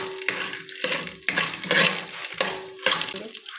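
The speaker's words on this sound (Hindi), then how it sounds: "अच्छे तरह से मिक्स कर लेना" Food being stirred and mixed in a cooking pot while preparing popcorn, repeated scraping strokes against the pot with a faint sizzle, several distinct passes close up and no speech.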